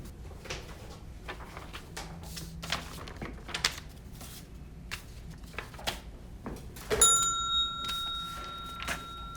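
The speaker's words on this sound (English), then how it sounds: "Ring the bell." A bell rung at an office reception window, sounding once as a bright ringing tone that lingers over faint room shuffling and background noise.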